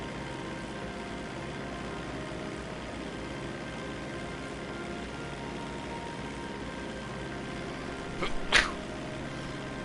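A single sharp sneeze near the end, cutting through a steady background of game engine and traffic noise.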